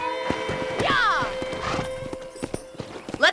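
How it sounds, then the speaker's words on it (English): Steady clip-clop of hooves with a horse's whinny rising partway through, set against a faint musical hum, in the video game Red Dead Redemption. "let's see if you can still ride a horse."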